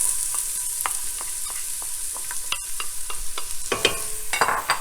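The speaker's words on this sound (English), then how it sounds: "Sounds a little sizzly, so we're gonna add the onion." Onion hitting warm oil in a pan and sizzling, with crackling bursts and spoon stirring scrapes throughout; close and moderately loud, no talking.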